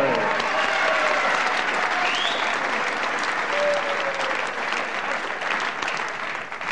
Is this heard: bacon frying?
no